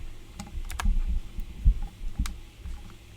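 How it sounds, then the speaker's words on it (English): A mechanical keyboard gives a few loud, close keystrokes, scattered clacks with thuddy low ends and short pauses between them. "Maybe we should do ASMR content, just like typing on mechanical keyboard."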